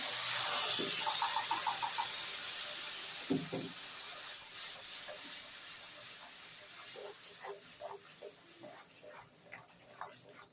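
Paste of tomato, green chili and ginger hits hot oil with a loud, bright hiss that slowly settles, accompanied by scattered spatula taps and clinks.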